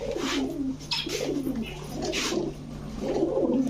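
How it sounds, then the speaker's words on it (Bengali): A pigeon coos close by at a pigeon shop, several low throaty calls repeating in a soft rolling rhythm. "এই যে একটা কবুতর দেখেন ভাই"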